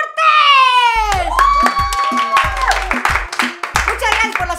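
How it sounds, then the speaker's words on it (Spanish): Studio audience clapping and cheering as a FIFA 19 gamer walks on for a head-to-head match in Mexico, a loud burst of hand claps and crowd noise with music and voices over it. "Muchas gracias por los aplausos."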